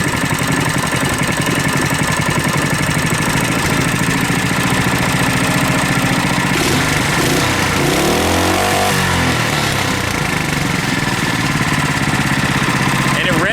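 A small go-kart engine, a modified Tecumseh T196 running without a governor, runs loud and close, revving high and buzzing continuously for the whole stretch.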